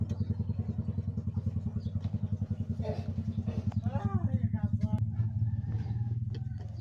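A motorcycle engine rumbles steadily nearby with a pulsing low throb, while voices talk over it and faint clatter sounds in the background.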